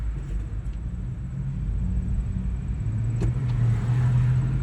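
FedEx delivery truck holding up city traffic in Philadelphia, with a steady low engine and road rumble running throughout and no voices.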